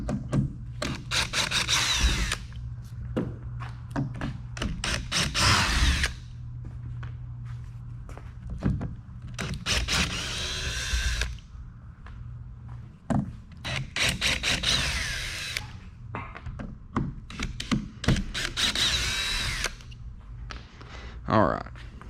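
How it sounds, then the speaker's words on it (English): Power drill backing screws out of a wooden shipping crate holding an outboard powerhead, coming in repeated bursts of whirring with short gaps, fairly close, while a person talks in between. "We're just gonna take these screws out."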